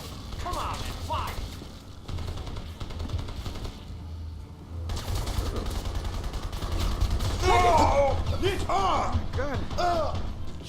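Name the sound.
gunfire in the video game Crysis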